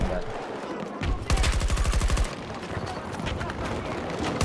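Rapid automatic gunfire in the video game Battlefield 2042, a loud burst of about a second of evenly spaced shots followed by scattered sharper reports and game sounds, with players talking over it.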